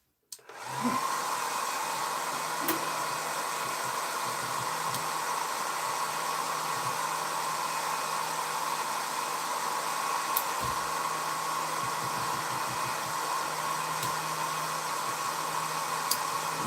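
A DeWalt power tool on a workbench starts up and then runs steadily, giving a loud, even whirring hum with occasional faint clicks.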